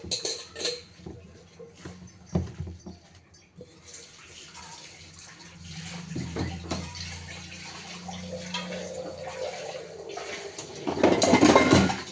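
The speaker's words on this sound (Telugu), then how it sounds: "కొన్ని పాత్రలు ఉంటాయి కడిగేస్తున్నాను" Dishes and pots are washed under running water, with faint clinks and splashes and a louder rush of water near the end.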